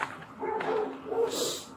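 A dog barks and whimpers near a running car during a police arrest, short yips and bow-wows mixed with whining, close and fairly loud, with people talking over it.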